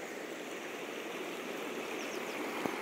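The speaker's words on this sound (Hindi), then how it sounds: "देखो पानी" River water rushes steadily in a broad, continuous stream, a dense even wash with no pauses and no voices.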